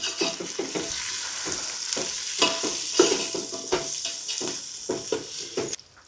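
Green chillies and onions sizzling in a pan for chicken donne biryani, with steady frying hiss broken by repeated stirring scrapes of a spoon against the pan.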